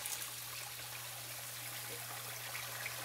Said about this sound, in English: you'll see the water shooting out of the weep hole during the pumping cycle